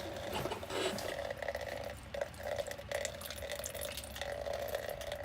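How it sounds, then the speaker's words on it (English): Steady trickling and splashing water drains continuously at close range from the fuel filter of a 6.0 Power Stroke diesel, with a faint mechanical hum underneath and a few brief knocks. "Yeah, the water's gonna start coming out."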